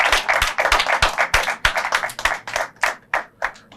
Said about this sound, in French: Ah, vous êtes des jeunes, applaudissez quand même pour vous.